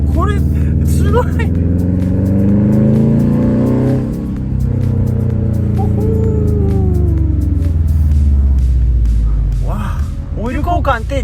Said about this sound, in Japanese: 音が違う、車の。